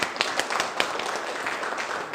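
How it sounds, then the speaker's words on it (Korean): A lecture audience at a political academy gives brief applause, scattered hand claps over a steady crowd hiss, short and moderately loud. "네, 박수 한번 제가 주세요."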